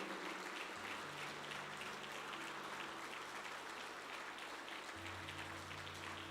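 A church congregation in Pachuca claps as an offering of praise, a soft, distant wash of many hands blending into an even rain-like hiss over a low steady hum.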